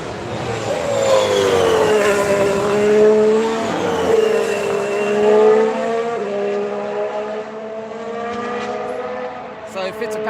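A Formula 1 car drives through turns 1 and 2 during a test session, its loud engine pitch sweeping up and down as it comes on and off throttle, with a brief tyre squeal. A commentator talks over it.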